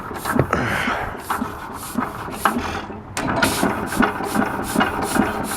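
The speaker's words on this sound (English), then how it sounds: "Got to be one of the quietest engines I've ever been around for a big engine like this." A big Canadian-made Plessisville 7hp hit and miss engine runs steadily with regular soft thumps and a mechanical clatter, fairly quiet and continuous throughout.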